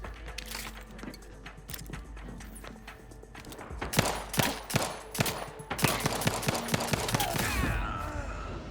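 Rapid gunfire in The Outer Worlds 2, with bursts of sharp shots crackling in quick succession and growing denser toward the end over a low game backdrop.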